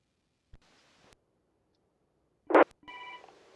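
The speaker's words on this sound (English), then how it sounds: "Got a phone call." A telephone rings during an amateur radio net, short ringing bursts separated by pauses, heard close and clear against near silence.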